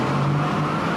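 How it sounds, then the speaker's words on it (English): Heavy road traffic on a highway packed with trucks, a steady loud engine rumble and whir with a low drone throughout, no pauses. "Miles and miles of trucks."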